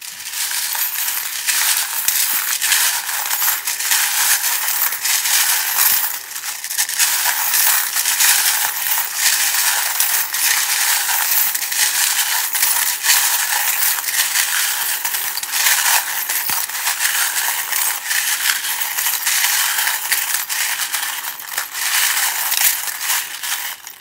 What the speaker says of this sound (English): it can be loud while I shuffle the charms